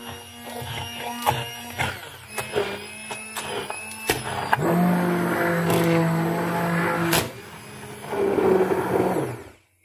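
A kitchen blender grinds cooked mustard greens with about four tablespoons of wheat flour for homemade sarson ka saag. It starts in short whirring bursts, then runs in a sustained loud grinding roar that eases off and swells again before cutting out.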